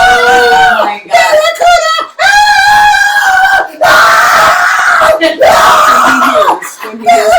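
A parrot screams in a cup, played back from a recording: loud, shrill, harmonic screeches in repeated bursts of about a second each, separated by short gaps.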